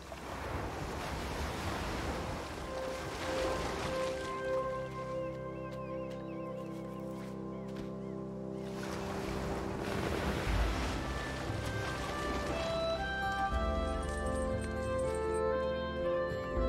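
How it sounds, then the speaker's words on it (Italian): Ocean waves surge and wash continuously with strong wind buffeting the microphone, a loud, steady roar that swells and recedes; faint musical tones sit underneath and no one speaks. "In tutto sto suono delle onde."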